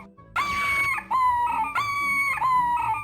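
A monster in the 1990s video game Pathways Into Darkness squawks in loud, shrill, chicken-like bursts, four repeated squeals in quick succession, with no voices.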